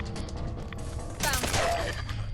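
Gunfire in Fallout 4 with the America Rising 2 mod: a burst of rapid shots crackles out partway through, loud and close, over a low game rumble.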